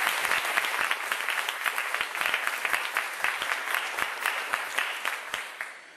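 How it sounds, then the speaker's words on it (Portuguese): A church congregation applauds during a Portuguese-language sermon on sin and salvation, a dense, steady wash of many hands clapping that carries evenly for several seconds before tapering off at the end. "Pode aplaudir mais um pouco."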